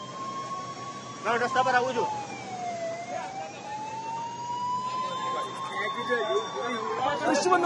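A wailing ambulance siren sweeps up and down steadily throughout at the Air India plane crash site in Ahmedabad, with people chattering in the background.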